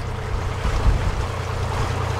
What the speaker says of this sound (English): the wind sort of built up just as I was going.